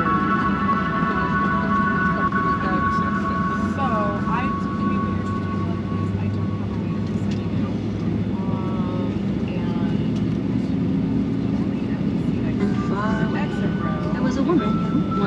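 Steady engine drone and hiss fill an airplane cabin, with a low rumble under continuous talk from a cabin announcement and a few faint tonal chimes.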